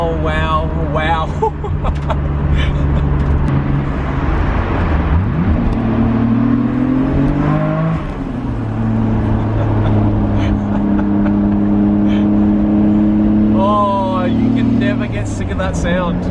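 A rare Nissan R34 GTR engine revs hard under boost in first gear around 4,000 RPM, its rising and falling whine and roar loud and close throughout, with excited talk over it.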